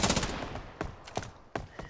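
Gunfire rings out in the battle royale video game ScarFall 2.0: a burst of rapid shots, then single cracks spaced apart, fairly faint, with no talk.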